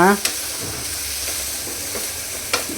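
Chopped tomatoes sizzle steadily in hot ghee in a home kitchen, with occasional sharp scrapes and clinks of a spoon stirring the pan.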